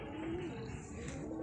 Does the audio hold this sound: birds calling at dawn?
yes